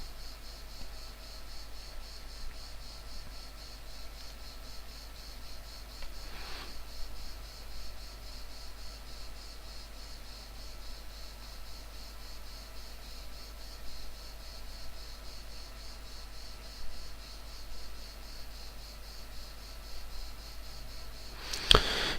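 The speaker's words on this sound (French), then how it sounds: "il y a des cigales qui chantent et que du coup vous devez les entendre" Cicadas sing in a steady, shimmering drone during a Malden mission in the game, a constant high buzz filling the whole stretch without any talk.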